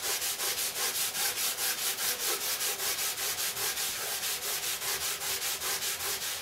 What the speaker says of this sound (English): I'm just going to take a lacquer thinner and I'm going to wipe this down